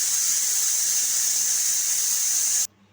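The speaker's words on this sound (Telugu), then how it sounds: "రెండు విజిల్స్ వచ్చేసినాయి" A pressure cooker cooking beerakaya dal lets out a loud, steady, high-pitched steam whistle that cuts off abruptly near the end.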